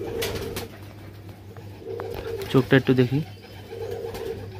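Pigeons at a pigeon farm in Nabadwip give a brief burst of throaty cooing in the middle, close and moderately loud. Someone talks nearby before and after it, over a faint steady hum.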